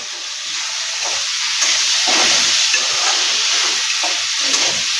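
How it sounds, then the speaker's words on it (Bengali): Chicken with turmeric is stirred in a hot pan while making chicken biryani, a loud steady sizzle and steam hiss with scraping stir strokes repeating every second or so, close up. "হালকা একটুখানি এটা নেড়ে নেবো।"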